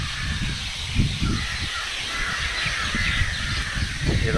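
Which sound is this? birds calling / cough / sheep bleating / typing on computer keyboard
birds calling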